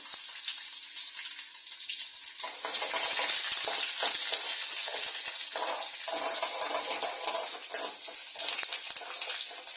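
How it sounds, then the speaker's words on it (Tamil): A bright, steady sizzle of whole peeled garlic frying in hot oil, which swells louder a few seconds in and keeps crackling continuously. "பூண்டு வந்து 1 நிமிஷம் வதங்கட்டும்."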